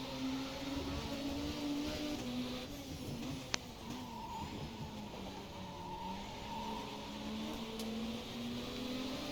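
A race car engine in a racing video game hums steadily at high revs, with the pitch slowly wavering as the car builds speed in the draft and one brief click partway through, no talking.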